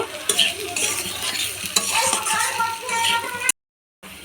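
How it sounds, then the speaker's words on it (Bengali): Boiled potatoes fry and sizzle in a pan for a spicy Bengali potato dish, with steady crackling and clinks of stirring. The sizzle stops briefly near the end, then returns. "আলুগুলোও সেদ্ধ হয়ে গেছে এবার একটু ভেজে নেব"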